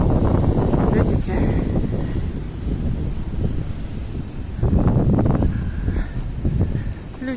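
Strong gusting wind in a park in Feodosia buffets the microphone, a low rumbling roar that rises and falls in waves, loud and close, with someone talking intermittently through it.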